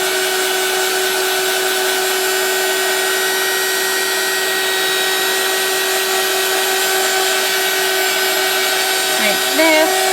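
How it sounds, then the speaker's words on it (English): A heat tool blows steadily close by while drying a journal page, a constant loud whirring hum with a faint shift near the end. "So just going to finish drying that off."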